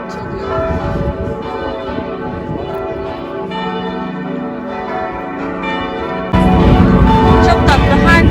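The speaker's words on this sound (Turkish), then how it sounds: "Çanlar kimin için çalıyor?" Church bells in Vienna ring continuously and loudly, their overlapping tolls swelling fuller near the end, with no talk over them.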